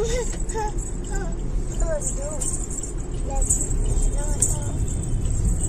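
Busy city road traffic in Pune, a constant low rumble of passing vehicles close by, with voices talking over it throughout.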